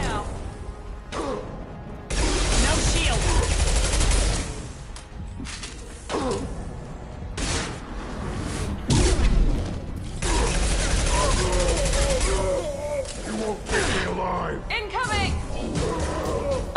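Weapon fire and combat effects from the video game Mass Effect 2, a dense, loud stretch of shots, crashes and mechanical noise with a person talking over it.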